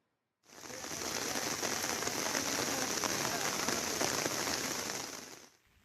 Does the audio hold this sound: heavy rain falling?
yes